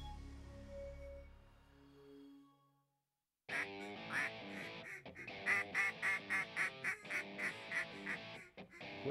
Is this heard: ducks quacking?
yes